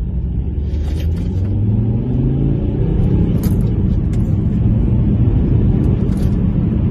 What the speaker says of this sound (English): It's got a proper 5-pot rumble, gets me going.